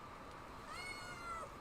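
A kitten's meow rises and falls in a single drawn-out, fairly faint call over a low background hum.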